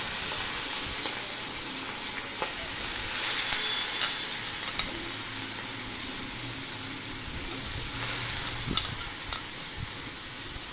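Banana stem pieces stirred in a hot pan of tempering give a steady, even sizzle close by, broken by occasional soft clicks and scrapes from the utensil, with no talking.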